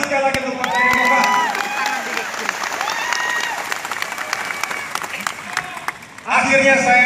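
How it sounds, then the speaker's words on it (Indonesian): Loud crowd applause and cheering at a Partai Demokrat national campaign rally, sustained clapping from a large gathering that dips slightly before swelling again at the end. "Tepuk tangan sekali lagi untuk Partai Demokrat."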